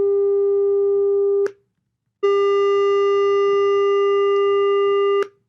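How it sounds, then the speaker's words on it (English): A steady electronic sine wave tone from a speaker sounds twice, a short burst then a longer one after a brief silence, loud and unwavering. "Sine wave."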